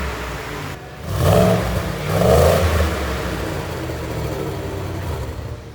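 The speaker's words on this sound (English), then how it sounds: "So now let's hear that exhaust." A supercharged Ford F-150 with a 4-inch lift and an adjustable exhaust set to loud mode revs loudly and close by in two swelling surges, then settles into a deep, steady rumble.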